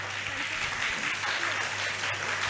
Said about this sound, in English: Come on, I'm sure I can get a bigger round of applause.